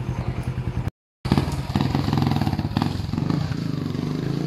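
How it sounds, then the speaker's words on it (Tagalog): Motorcycle exhaust on a mechanic's test ride in Cataingan, Masbate: a steady, close engine rumble with a brief cut-out near the start, then a continuous throaty drone. "Ang ganda pakinggan ng tambotso na ito guys."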